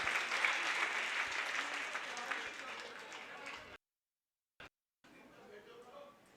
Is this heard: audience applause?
yes